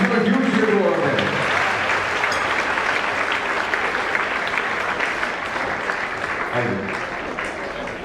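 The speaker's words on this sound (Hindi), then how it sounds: "let's give a huge cheer to all of them" Students at a university event applaud and cheer loudly, a dense continuous wash of clapping that fades slightly toward the end, with a voice briefly speaking over it.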